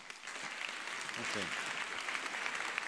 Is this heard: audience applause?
yes